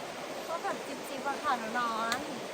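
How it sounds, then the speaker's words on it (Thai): A waterfall in the forest of Phu Soi Dao gives off a faint, steady rushing hiss, heard under someone talking nearby. "ได้ยินเสียง น้ำตกไหมครับ"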